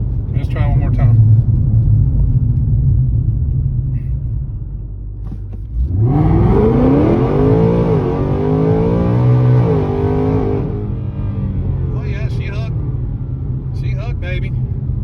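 Whipple-supercharged drag-pack car launches from a complete stop, its engine rising in a loud, sweeping rev through the gears for about five seconds over a steady low rumble, with people talking around it before and after.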